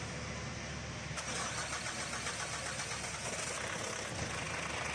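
A car with a diesel EFI engine that had been cranking without starting turns over and catches, settling into a steady, even idle that stays loud and close with no one talking.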